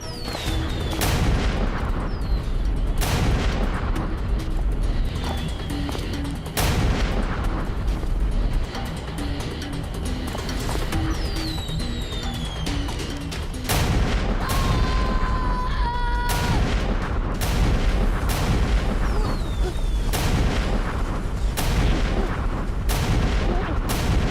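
Rapid, dense bursts of firecrackers pop and crackle continuously, with sharp bangs layered over a steady roar, loud and close throughout.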